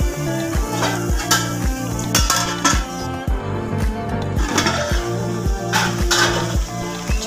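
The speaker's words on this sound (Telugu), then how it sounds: "పసుపు వేసాక కూడా కొద్దిసేపు మగ్గనిద్దామండి" Onions with added turmeric fry in a pan for a tomato egg curry, with a steady sizzle and repeated rhythmic scraping and stirring strokes against the metal, close and prominent.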